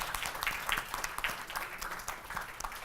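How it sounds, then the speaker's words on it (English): Audience applause after the speakers at a conference session on big data, machine learning and artificial intelligence, a moderate, steady patter of many hands lasting the whole stretch, somewhat distant and soft in the room. "Let's give applause to all of the speakers here."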